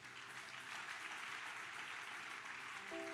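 A church congregation applauds with dense, sustained clapping at a moderate distance, even and unbroken, with a faint tonal hum entering near the end.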